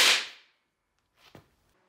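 A few milligrams of a dried, sensitive explosive salt detonate close by with a single sharp, very loud crack that decays within half a second, followed by quieter rustling.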